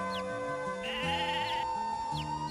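Repeated sheep bleats in the game Mabinogi over a light, tuneful game melody, the animal calls rising and falling a few times at moderate volume.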